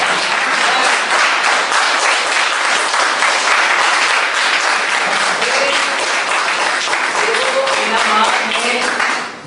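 A crowd applauds at a marketing seminar with loud, sustained clapping that stays dense and even for about nine seconds and then cuts off sharply at the end. A few faint voices are mixed into the clapping.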